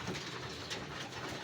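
Racing pigeons coo softly at a derby loft in San Narciso, Quezon, steady low murmuring under a broad background hiss with no clear individual calls standing out.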